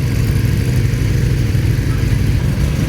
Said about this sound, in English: listen to that, you can hear the dry clutch